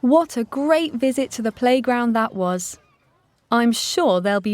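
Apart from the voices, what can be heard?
No distinct noise like a dog, phone or traffic.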